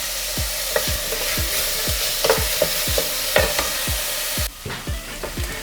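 Onions softening in a hot pan sizzle steadily, with a spoon or spatula scraping and stirring in regular strokes roughly every half second, close and clear, with no voices.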